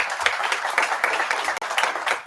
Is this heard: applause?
yes